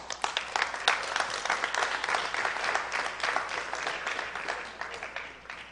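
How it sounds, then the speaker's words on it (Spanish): A church congregation clapping at an evening service, steady lively applause from many hands across the hall, fairly even in level from start to finish. "Démosle un aplauso al Señor."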